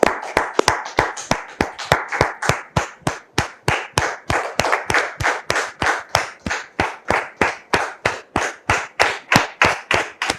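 A television studio audience claps in a steady, rhythmic beat, each clap sharp and distinct, repeated evenly for about ten seconds with no talking.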